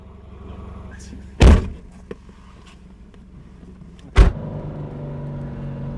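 Toyota MR2 Spyder engine idling with a low, steady hum, interrupted by two sharp, loud door-like thumps a few seconds apart, the rumble fuller after the second.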